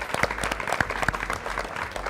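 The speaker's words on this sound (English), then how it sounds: "One more time, a round of applause for these 8 all-stars." An audience at an academic challenge finals applauds an eight-member high school all-star team, scattered hand claps with distinct individual sharp slaps in a short two-second burst.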